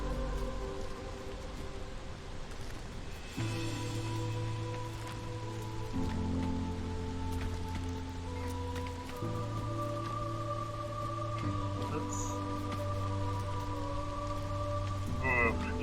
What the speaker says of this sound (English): Hopefully this nasty downpour will subside, along with the lightning.